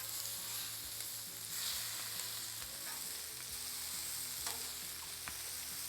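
Chicken wings sizzling on a Blackstone griddle, a constant dense hiss with occasional soft scrapes and taps as they are flipped, steady and moderately quiet.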